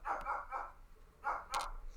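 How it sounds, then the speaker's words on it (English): Several dogs bark in short bursts from a distance indoors, four or so barks spread over two seconds, while someone picks a brass Lockwood padlock. "The dogs are going crazy."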